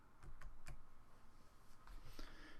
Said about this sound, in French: Je vais faire au clavier CTRL-C.